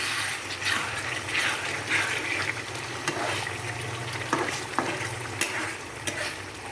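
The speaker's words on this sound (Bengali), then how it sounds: "কষাইয়ে জল দিয়ে দেবো" Water is poured into a spiced fish curry in a hot pan, setting off a lively sizzle with scraping stirs and small splashes throughout, close and moderately loud.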